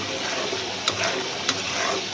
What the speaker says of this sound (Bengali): কলিজার মশলা কষাইতেছি খুব সুন্দর করে